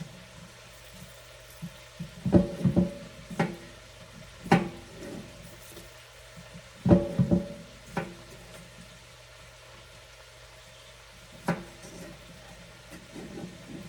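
Potatoes being stirred into onion in a pot, with intermittent scraping and clunking of a spoon against the pot in short clusters over a faint steady background sizzle, close and fairly quiet.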